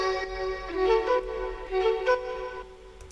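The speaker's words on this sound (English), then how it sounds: "It sounds like a flute, and I like it." Sustained, breathy flute-like melodic loop from a Splice sample pack, played in a piano house track. It holds soft wavering tones with gentle swells over about three seconds, alone and without talk.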